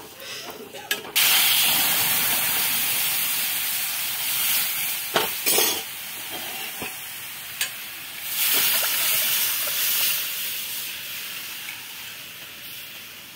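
Dal cooking in a pot on a home stove for a vegetarian dinner: a steady hiss and sizzle with a few sharp clinks and stirring knocks, fairly close, under occasional talk.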